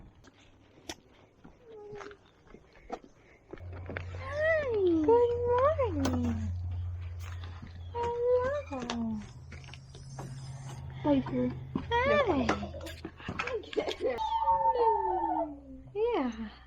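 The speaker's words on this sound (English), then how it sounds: "the kittens are doing good" Kittens in a barn meow repeatedly in rising and falling cries, close by, over a low steady mechanical hum, with a brief greeting spoken near the start.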